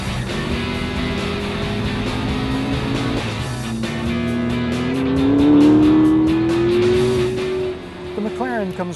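A McLaren MP4-12C supercar with a carbon fiber tub drives under load, its loud engine tone climbing steadily as it accelerates, then easing off near the end, with faint voices in the background.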